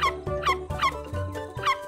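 A dog barks repeatedly in quick, evenly spaced yips, four or five sharp high barks close by with short whining tails, no talking.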